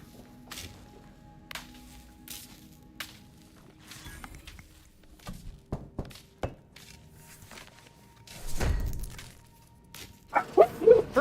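Dogs barking in a house during a game session: scattered sharp bursts, a louder cluster near the end, with footsteps and thumps in between.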